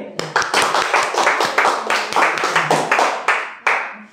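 Students clap in a classroom, a run of about a dozen sharp, rhythmic claps at a steady beat, loud and close, with voices mixed in.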